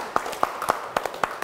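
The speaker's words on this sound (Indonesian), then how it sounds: "tepuk tangan dulu untuk" Several sharp hand claps spaced out in a loose rhythm, fairly close, from people at the official opening of a permit service counter in Yogyakarta.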